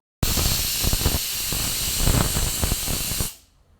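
Pressure cooker on a kitchen stove venting steam while dal boils, a loud, close, continuous hiss that starts abruptly, holds for about three seconds, then tapers off.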